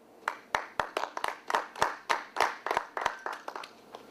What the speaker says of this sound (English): i give you a round of applause for that, no question